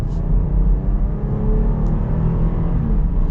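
A 2022 Jeep Grand Cherokee L Limited accelerating, heard as a steady, smooth low engine rumble and road drone from inside the cabin, even and unbroken throughout with no one talking.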